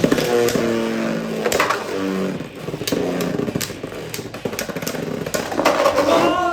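Beyblade Burst tops spinning and clashing in a plastic stadium, a loud continuous whirring grind broken by sharp repeated collision clicks, close, with no speech.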